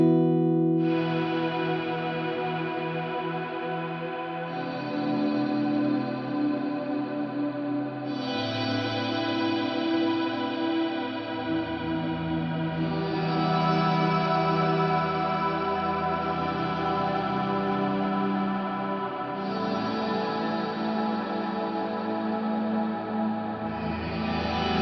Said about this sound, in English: There's this new mega reverb type in here called Wormhole.